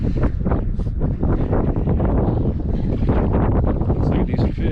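Steady wind buffets a boat on the water at night during fishing, a continuous broadband roar of wind noise on the microphone with no pauses across the whole stretch.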